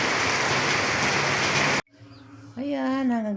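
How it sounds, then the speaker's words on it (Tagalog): Heavy rain pours down in a dense, steady roar for nearly two seconds, then cuts off abruptly before a person begins speaking. "lalong lumakas yung ulan"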